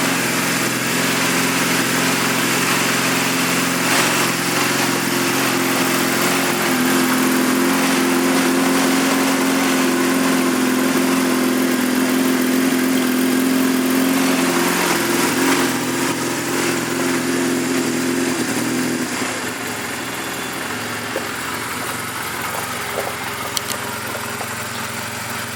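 A 2004 Honda CMX250 Rebel motorcycle engine runs steadily close by, warming up with a constant buzzing drone that holds for a long stretch and then settles to a slightly quieter idle, with no talking.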